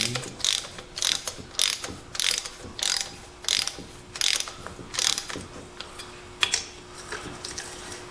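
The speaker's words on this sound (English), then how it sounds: "So let's run the bolts in." A hand ratchet runs bolts into the block of a 1940s Lawson two-horsepower engine, giving a close, loud series of about a dozen rhythmic clicking strokes with short pauses between them.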